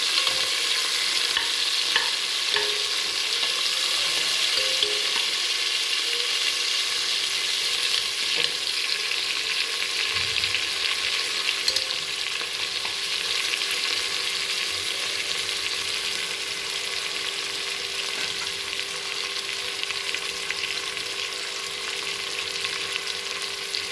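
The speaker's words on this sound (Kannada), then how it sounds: "ಕರಿಬೇವು, ಪುದೀನ, ಕೊತ್ತಂಬರಿ ಎಲ್ಲ ಹಾಕ್ಕೊಂಡ್ಬಿಟ್ಟು ಚೆನ್ನಾಗೆಲ್ಲ ಫ್ರೈ ಆಗಿ" Curry leaves, mint and coriander frying in a pan give a steady, dense sizzle that runs the whole time at an even level, with faint stirring scrapes and no voices.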